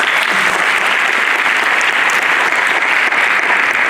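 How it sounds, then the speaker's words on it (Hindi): Audience at a national theatre festival applauds loudly and steadily, a dense wash of clapping filling the whole stretch without pause. "इनके लिए जोरदार तालियां।"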